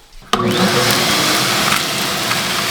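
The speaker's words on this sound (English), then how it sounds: "So we've got two piles of dust here that we're going to suck up" Shop dust collector switching on with a sudden loud whoosh and then a steady, roaring suction as it pulls up piles of dust in a small workshop, continuous and close with no talking.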